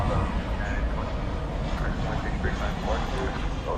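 An airliner lands on runway 18 right at DFW after dark, a loud, steady broadband engine roar held for the whole stretch with no pauses.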